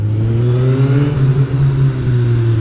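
A Suzuki Swift's exhaust drones at a steady rev, a loud close engine hum with slight rises and dips in pitch, heard alone without talk.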